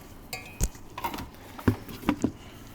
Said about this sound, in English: get this flour sprinkled in and get this mixed in with the butter really well